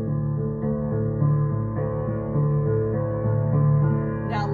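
Sustained piano chords ring together with the sustain pedal lightly pressed, a steady blur of overlapping notes changing every second or so, close and fairly loud, with a brief light noise near the end.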